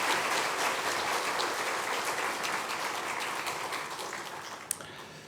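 A church congregation claps steadily to welcome three elders during a Sunday service, a dense, even wash of applause from a full room that slowly tapers off.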